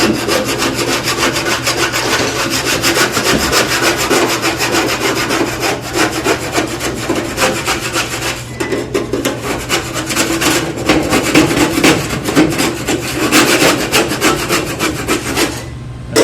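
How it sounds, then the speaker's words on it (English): A metal scraper works grime off a Duke broiler in a commercial kitchen, making a loud, harsh, continuous grinding scrape with rapid back-and-forth strokes and no talking. "What you can do, just take your scraper, get it off."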